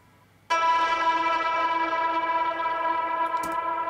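Epic trailer ping built from a guitar note processed through the Sonsig Rev plugin: a single bright, sustained tonal hit that starts abruptly and rings on evenly with rich harmonics, alone without voices.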